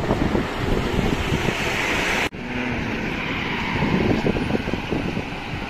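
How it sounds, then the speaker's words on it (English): Wind buffets the microphone at a mountain viewpoint in Salalah, Oman, during the khareef season. The gusty rumble is steady and loud, with one brief dropout midway and no voices. "It's really a little bit breezy here."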